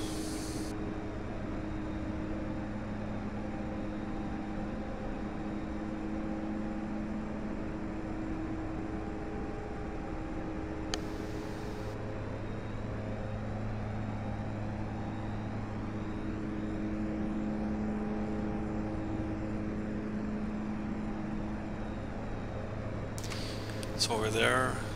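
A de Havilland Twin Otter's engines in a flight simulator make a steady, unbroken drone with a faint whine running through it. A person talks over the engine noise.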